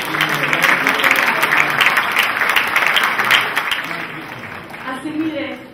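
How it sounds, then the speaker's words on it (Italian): An audience at an award ceremony breaks into loud sustained applause, a dense wash of clapping that fades gradually toward the end as a voice starts speaking over it. "Un applauso, complimenti."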